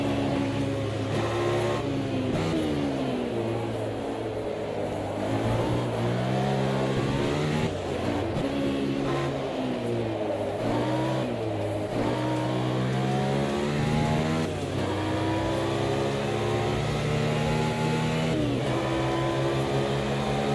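A race car engine in the Automobilista 2 racing game revs hard and continuously, its pitch sweeping up and down through repeated throttle bursts and gear changes, loud and close with no voices.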